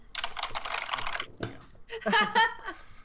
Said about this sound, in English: Slap your keyboard a few times, get that out of your system.